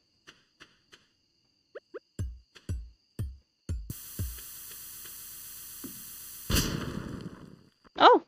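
A bomb goes off in the Stardew Valley video game: a single sudden noisy blast with a short decaying hiss. Before it come a few light clicks and a run of soft thuds, and a brief bright chime follows.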